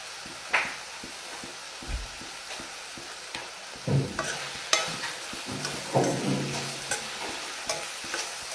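Masala for a kathal (jackfruit) curry sizzles and fries in a pan while being stirred, with scraping strokes and bursts of crackle recurring through the clip, fairly close and without talk.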